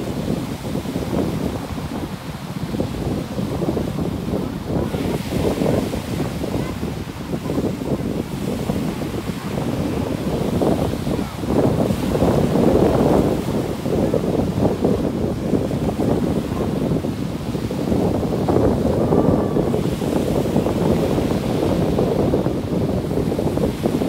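Ocean waves rolling onto a beach with steady wind buffeting the microphone, a loud continuous roar of surf and gusts that swells and eases without pause.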